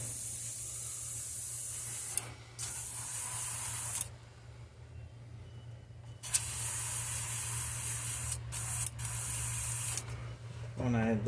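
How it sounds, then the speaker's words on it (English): An airbrush sprays peachish orange paint onto the sides of a crankbait lure being painted in a molting craw pattern, giving steady close hissing bursts broken by short pauses, with a low electric hum underneath. "we're just going to spray this on the sides"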